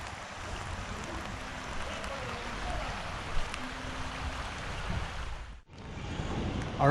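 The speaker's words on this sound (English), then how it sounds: "it's still raining, but that's okay" Rain pours and water runs through flooded cobbled streets in Villa de Leyva, Colombia, making a steady, moderately loud wash of hiss and rushing flow with a brief dip near the end.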